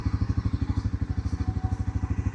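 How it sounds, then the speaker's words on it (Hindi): Bajaj Pulsar NS 400Z 2025, 373cc single-cylinder motorcycle, idling at about 1200 RPM: a close, steady, evenly pulsing low thump with a light mechanical clatter and no voices. "373 सीसी की बाइक इतनी नॉर्मली स्टार्ट है"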